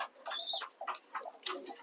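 Pet pigeons kept in a home coop give several short, close calls in an uneven rhythm, separated by brief quiet gaps, with no speech.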